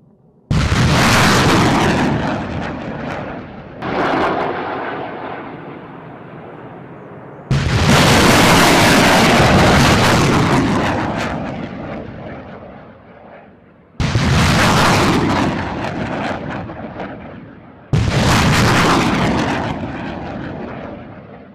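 A HIMARS launcher fires reduced range practice rockets in four separate launches, each a sudden loud roaring blast that tails off slowly, with pauses between them.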